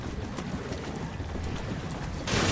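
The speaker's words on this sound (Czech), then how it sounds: "já jsem nastartoval motor" A boat engine in Resident Evil 6 running with a low, steady rumble under rushing wind and water noise, which grows louder in a sudden burst near the end, with no talking.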